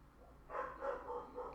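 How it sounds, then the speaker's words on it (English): Dogs bark in a quick run of soft, muffled yaps, fairly distant and faint against a quiet background. "maybe with the dogs barking right now"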